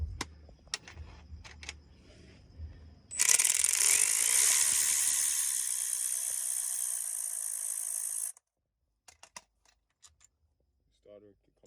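A ratchet wrench clicks in short bursts on a starter bolt of a 2006 Scion xB, then a dense, steady mechanical whir runs for several seconds close by before cutting off, leaving scattered faint clicks and taps.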